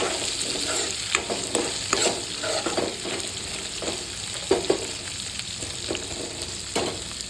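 Onion and green chillies fry and sizzle in a pan for mango chitranna, with a steady hiss and repeated scraping stirs at an irregular rhythm, close and moderately loud, no talking.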